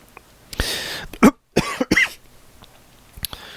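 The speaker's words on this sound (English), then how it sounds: "That was nearly an extremely loud cough. I managed to stifle it a little bit though." A single loud, partly stifled human cough bursts out in a quiet room, followed by a few softer throat sounds and breaths, with no talking.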